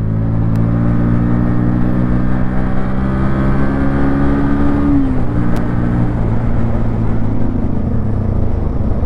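A 2024 Bajaj Pulsar NS125 motorcycle riding with a steady, loud engine drone whose pitch climbs, drops at a gear change and climbs again, heard up close with no talk.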